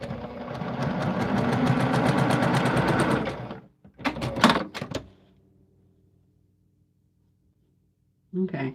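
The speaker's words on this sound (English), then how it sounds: "Is that sewing machine going to be too loud for you guys?" A sewing machine runs steadily and loudly for a few seconds, stops, then gives a couple of short bursts before falling quiet; a voice returns briefly at the end.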